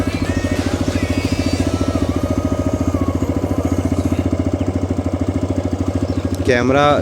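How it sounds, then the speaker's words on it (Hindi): A TVS Raider 125 motorcycle idles close by, its engine throbbing in a fast, even pulse that stays loud and steady throughout, with a brief sharper sound at the very end. "और आइडियली स्टार्ट कर दी, तो बाइक में वाइब्रेशंस देखिए।"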